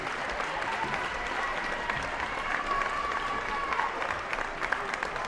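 A gym crowd at a girls high school basketball playoff game gives steady applause for an injured player, even and continuous, with a faint squeak or whistle partway through.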